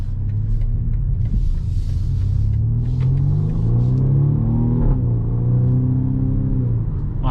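A BMW M235i xDrive Gran Coupe accelerates hard from inside the cabin, a deep engine rumble climbing steadily in pitch through the gears with a brief dip at a shift midway, over constant road noise.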